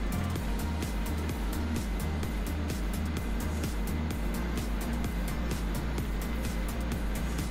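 Tractor engine in Farming Simulator 2017 running continuously while driving during tillage, a steady loud low drone with a pulsing throb and no pauses, no voices over it.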